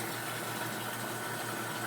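Water spouts and gushes steadily from a Phosban reactor in an aquarium setup, making a continuous close hissing splash with no pauses and no speech.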